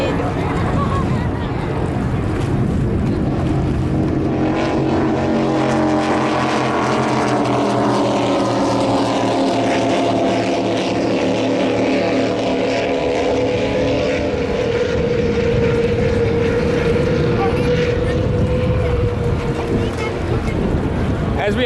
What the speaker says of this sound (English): Team Maritimo, Idris boat, thundering down the main straight.